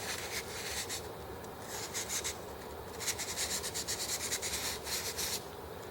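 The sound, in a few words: wet and dry sandpaper rubbing rust off metal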